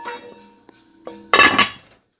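A lid goes onto a soup pot holding cooked protein, a short metallic clatter and clank up close after a few faint kitchen knocks, brief and alone without talk.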